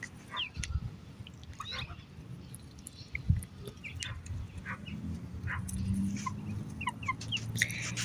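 A hen clucks softly and intermittently in a contented way, low murmuring sounds close by, with scattered bird chirps and light background noise in an evening garden.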